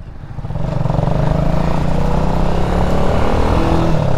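Kuba Superlight 200 motorcycle engine droning steadily and close, its pitch shifting slightly as the rider drops through gears on a traffic street, with no talk over it.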